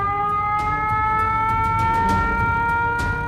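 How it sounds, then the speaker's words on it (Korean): Steady-tone civil defense siren wailing at a constant pitch, loud and unbroken, with faint clicks and knocks scattered over it. "어디선가 평탄음의 사이렌이 울리기 시작했습니다"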